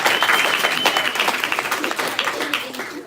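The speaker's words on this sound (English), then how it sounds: "give it up, another round of applause" Audience applause at a concert, a dense, loud wash of clapping that holds steady for about three seconds and then begins to thin toward the end.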